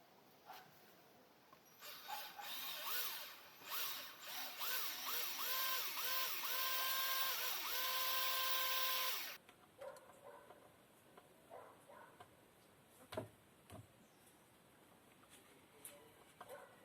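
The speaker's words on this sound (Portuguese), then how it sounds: "Agora estou a parafusar as travessas onde irei colocar as telhas." A power drill whines steadily, rising and falling as it drives screws into reclaimed wooden crossbeams for a shelter roof over a pedal pump. It runs for several seconds and then stops, leaving scattered light knocks and handling sounds.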